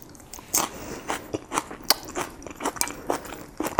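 Crunchy vegetables in chow mein noodles are chewed close up, giving a steady run of crisp bites and crackling crunches with no talking.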